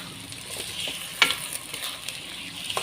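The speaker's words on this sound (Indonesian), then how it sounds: "Centungin jengkolnya, aduk biar nyerep" A Betawi-style jengkol stew is stirred in a pan over a soft, steady sizzle, with a few sharp scrapes and taps of a ladle against the pan cutting through.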